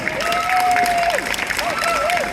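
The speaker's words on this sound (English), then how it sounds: "A big applause for the winners." An audience at a holiday resort in Salou applauds the winners, a steady patter of clapping with a musical tone and some voices running over it.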